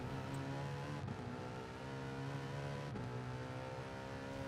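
A race car in Gran Turismo Sport roars in a continuous engine drone under full throttle, with short dips where the gears shift, steady and fairly quiet with no talk.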